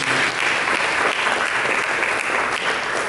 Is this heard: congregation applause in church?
yes